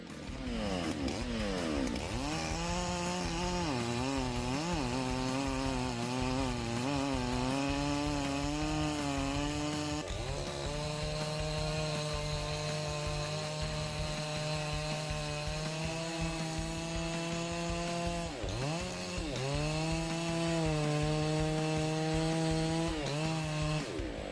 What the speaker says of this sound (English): 9010 is a most formidable chainsaw.